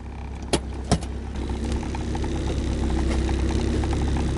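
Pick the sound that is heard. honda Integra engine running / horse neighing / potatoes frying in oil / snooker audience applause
honda Integra engine running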